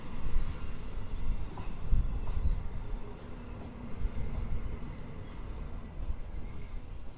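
A train rolls slowly through Warszawa Wschodnia station, a steady low rumble with faint wheel clatter throughout and no voices.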